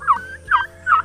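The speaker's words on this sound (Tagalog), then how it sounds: "marami na yung pabo natin" Turkeys gobble nearby on a small farm in three quick bursts, each a rapid warbling call separated by short pauses.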